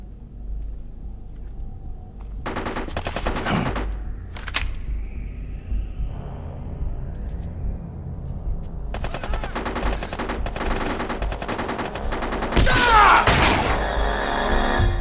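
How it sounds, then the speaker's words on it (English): Gunfire in a Metal Gear Solid: The Twin Snakes cutscene: scattered bursts of shots and sharp impacts with shattering, separated by quieter stretches, building to a dense, loud volley near the end. "I love how that dude was just blindly shooting in the air"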